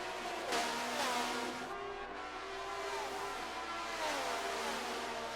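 IndyCar race cars in a racing video game run a flying lap, engine notes rising and falling as they accelerate and shift, steady and moderately loud with no talk.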